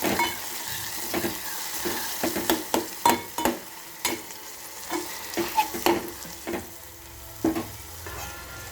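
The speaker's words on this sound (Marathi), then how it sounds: "हे टोमॅटो मी चिरून घेतले आणि हे आता इथे टाकून घेणार आहे टोमॅटो छान तेलामध्ये आपण परतून घेणार आहोत" Chopped tomatoes sautéing in hot oil in a pan for zunka, a soft sizzle broken by repeated scraping and clanking of a spoon stirring against the pan, close and without talk.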